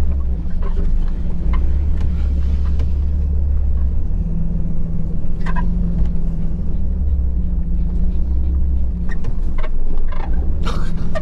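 Car engine idling in 4 low while clutched in, a steady deep low rumble with faint intermittent clicks and rattles on top, close and continuous.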